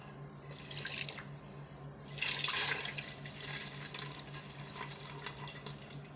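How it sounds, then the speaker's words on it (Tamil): Soaked pearl millet being strained, with water pouring and dripping through in two stronger splashy bursts followed by a softer steady trickle, close and alone. "இதை நம்ம வடிகட்டிக்கிடணும்."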